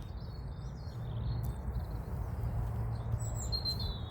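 Small birds chirping outdoors in the morning, short high tweets scattered over a steady low rumble of background noise.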